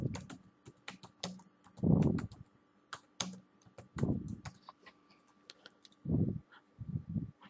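Computer keyboard typing at close range as a caption is entered on a website, quick clusters of key clicks with heavier thumps in between and short pauses.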